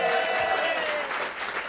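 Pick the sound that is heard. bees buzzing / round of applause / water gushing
round of applause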